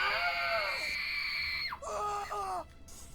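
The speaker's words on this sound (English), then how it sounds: "The screaming." Shrill, sustained human screaming in a horror audio drama: a long wailing cry that bends downward, then a second shorter wavering scream, loud and alone over a quiet background.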